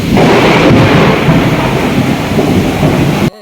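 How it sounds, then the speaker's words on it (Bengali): A heavy thunderstorm with dense pouring rain and a loud rolling rumble of thunder fills the air, steady and close, then cuts off abruptly near the end. "প্রচুর বজ্রবিদ্যুৎ সহ বৃষ্টি হচ্ছিল"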